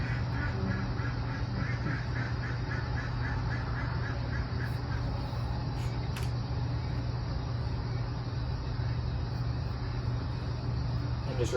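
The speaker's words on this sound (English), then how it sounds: "Got some ducks outside." Ducks honk and quack outside, steady and moderately distant, under a continuous broadband hum from an RV interior during blind repair work, with a brief clatter near the middle.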